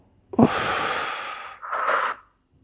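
A deep breath drawn in and let out during a guided relaxation, a long airy inhale of about a second followed by a shorter, softer exhale, close and alone.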